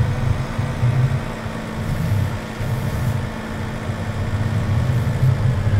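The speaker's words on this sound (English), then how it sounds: "This is our farm tractor for the sheep farm." A farm tractor for a sheep farm in Farming Simulator 17 idles steadily with a low, even engine drone that runs unbroken and close throughout, with no talk over it.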